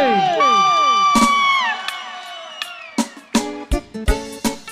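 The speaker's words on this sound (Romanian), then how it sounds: "Aplauze și pentru nașul mare." At a Romanian family celebration, loud whoops and high gliding cheers ring out for the godfather, followed by sharp scattered claps.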